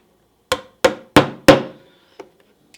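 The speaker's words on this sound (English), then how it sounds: "hold it at the very, very top of your pliers, and then you're going to go ahead and hammer" Four sharp, evenly spaced hammer strikes drive a nail into wood for string art, the nail held steady with pliers, followed by a lighter tap; close and loud against a quiet background.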